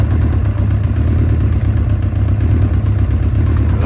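Honda Interceptor motorcycle engine idling close and loud with a steady, even rumble and a faint mechanical clatter running through it.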